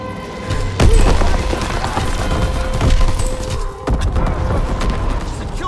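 Bombing run explosions in Call of Duty WWII, several sharp booms and blasts among scattered gunfire, loud and close, with a short lull before more impacts.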